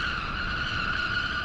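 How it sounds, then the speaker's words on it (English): Tires skidding under hard braking in BeamNG.drive, a steady, sustained screech held at a constant loudness with no letup. "Just keep slamming the brakes."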